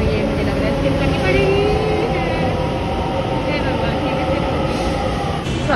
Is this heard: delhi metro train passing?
yes